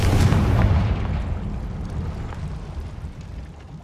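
An explosive Confringo spell in the video game Hogwarts Legacy hits with a loud, close boom, then a rumbling tail that slowly fades over a few seconds. No voices are heard.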